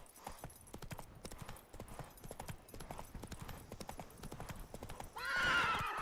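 Hoofbeats of the horse Roach in The Witcher 3: Wild Hunt, Blood and Wine expansion, a steady galloping clip-clop, ending with a loud whinny.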